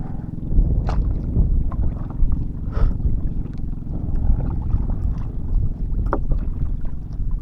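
Water sloshing and lapping against a small fishing boat as it rocks, with low wind rumble and occasional knocks, no voices.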